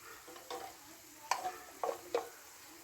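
Ground spice masala of turmeric, chili, coriander and cumin fries in a pan for fish biryani, a faint low sizzle broken by a few sharp scraping stirs.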